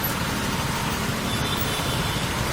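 Road traffic noise heard from a scooter in heavy traffic, a dense continuous rumble of nearby engines and wind with no distinct passes or speech.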